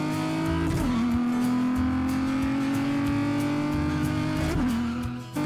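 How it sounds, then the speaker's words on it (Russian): A cartoon truck engine drones and revs as it speeds up, a steady mechanical hum with two brief pitch dips where it shifts and surges, heard alone without talk. "Странно, мой грузовик стал быстро набирать скорость."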